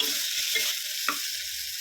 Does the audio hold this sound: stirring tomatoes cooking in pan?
yes